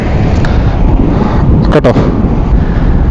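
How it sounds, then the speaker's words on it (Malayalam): Strong wind by the sea buffets the microphone with a constant low roaring rumble, loud and unbroken, while a person speaks briefly over it. "ഭയങ്കര കാറ്റ് കേട്ടോ"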